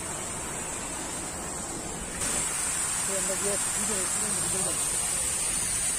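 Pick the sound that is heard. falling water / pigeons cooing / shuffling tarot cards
falling water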